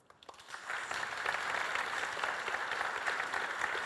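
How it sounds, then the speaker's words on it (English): A conference audience bursts into applause for the event's sponsors, a sustained crowd clapping that swells quickly and holds steady at moderate distance. "give a round of applause to all of our sponsors"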